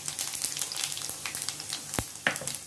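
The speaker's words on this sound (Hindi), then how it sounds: "पहले तेल में हम लोग सूखी लाल मिर्च डाल लेंगे, साथ में डाल लेंगे" Dried red chilies and spices sizzle steadily in hot oil while making poha, a continuous crackling fry with scattered sharp pops and spatters, close and fairly loud, with no voices.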